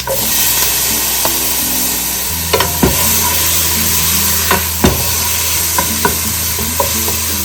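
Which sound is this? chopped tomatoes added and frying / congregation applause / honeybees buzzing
chopped tomatoes added and frying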